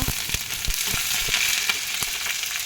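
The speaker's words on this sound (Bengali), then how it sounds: "তারপর কড়াই গরম করে তেল দিয়ে তার মধ্যে দিয়ে দিয়েছিলাম শুকনো লঙ্কা, তেজপাতা, মৌরি, গোটা মৌরি আর হলো শস্য, কাঁচা লঙ্কা" Dried red chilies, bay leaf and whole fennel fry in hot oil in a wok, a loud, close, constant crackling sizzle with rhythmic low thumps of stirring, no voices.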